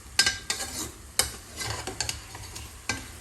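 Smoked cartilage fries in a little oil in a pan with a low crackling sizzle. A spoon scrapes and clinks against the pan in quick, irregular strokes.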